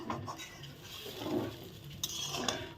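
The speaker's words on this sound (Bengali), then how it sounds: "এখন দেখো মশলা আমি সুন্দর ভালো করে কষিয়ে নিচ্ছি" Spice paste being stirred and fried in a pan for a vegetarian paneer dish, a quiet scraping of a utensil against metal with soft sizzling and a couple of light clinks.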